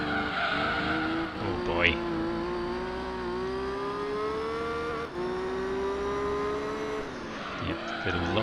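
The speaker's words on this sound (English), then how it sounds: "The car refuses to come off the grass. When it does, it just slides across the road." Race car in Gran Turismo 3 with lost rear grip sliding across the road, a steady engine drone with tonal harmonics under a long, continuous tyre squeal and skid, loud and close.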